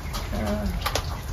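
Birds coo in a short, soft, rolling call against steady background noise, with faint voices nearby.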